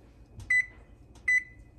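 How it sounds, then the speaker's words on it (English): A kitchen timer beeps during preparation of a taco bake, giving two short, clear electronic chirps about three-quarters of a second apart over a low, quiet kitchen hum. "Oh, my timer's going off."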